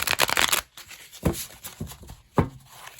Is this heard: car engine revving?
no